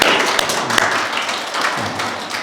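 A church congregation at a Sunday service applauds to welcome first-time visiting families: dense, steady clapping that fills the whole stretch at an even level, with no talking over it.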